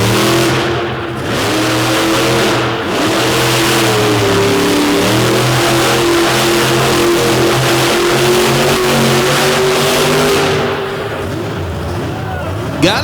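War Wizard monster truck engine revving loud and close at a Madison monster truck show, a sustained throaty roar with rising and falling pitch under a crowd and announcer's voice.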